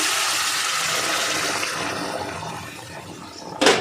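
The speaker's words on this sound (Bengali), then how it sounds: "এবার আমি গরম জল দিয়ে দেবো।" Hot water poured into a cooking pot for a vegetarian curry with dumplings, making a steady rushing pour that gradually thins, then a brief louder splash near the end, with no talking.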